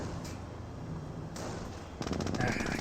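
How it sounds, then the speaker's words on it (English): Rapid automatic gunfire rattles in a Company of Heroes battle as a jeep takes fire from Panzer Grenadiers, with bursts growing louder toward the end, mixed with battle noise. "Jeep here receiving some fire from the Panzer Grenadiers"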